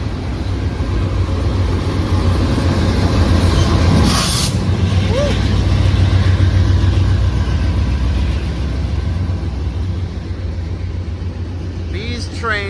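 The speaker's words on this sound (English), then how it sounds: "This is now a 5-engine train." Long freight train rolling past with five locomotives including a distributed power unit, a steady loud rumble of wheels and cars under intermittent talk, with a brief squeal and hiss around the middle.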